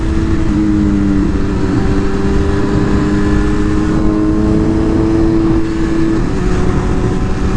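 An MV Agusta motorcycle engine running with a steady, loud mechanical drone and a held revving tone that shifts slightly partway through, close up and without voices.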